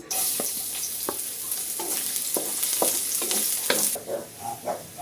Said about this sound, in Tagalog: Ilagay na po natin ang mantika. Ngayon po ay ilagay na natin ang bawang.